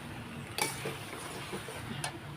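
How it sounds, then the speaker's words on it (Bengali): Spiced curry being stirred in a cooking pan, with two sharp scrapes and clinks of a spoon against the metal over a faint background hiss, close and without speech. "তাই এটা এখন একটু নাড়াচাড়া করে নিই"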